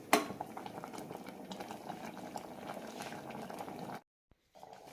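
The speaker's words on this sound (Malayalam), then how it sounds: "2 മിനിറ്റ് നന്നായി തിളപ്പിച്ചെടുത്താൽ മതി" Sambar spinach curry bubbling steadily in a pot, a close, continuous boil with soft pops for about four seconds before it cuts to near silence, with a faint return of simmering at the very end.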